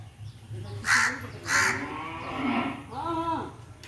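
A black cow lows on a rural farm, several short calls across a few seconds, near and fairly loud with harmonic moos toward the end, with no talk over it.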